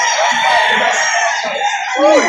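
Rooster crowing loudly and close, an eight-month-old bird offered for sale at a poultry market in Lipa, Batangas, with a long drawn-out call and other fowl clucking around it.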